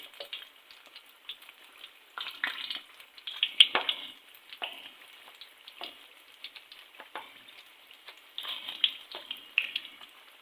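Keema rolls frying in a pan, with a soft continuous sizzle broken by frequent sharp crackles and spits of oil, close and moderately loud, with no talking.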